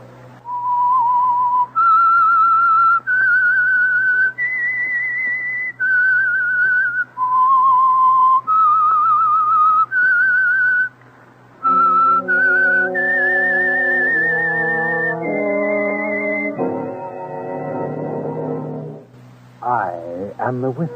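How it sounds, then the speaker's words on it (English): The opening theme of the 1940s radio drama The Whistler: a clear, melodic whistled tune of sustained notes rising and falling, joined partway by a low musical accompaniment that swells toward the end. "That whistle is your invitation to listen to The Whistler."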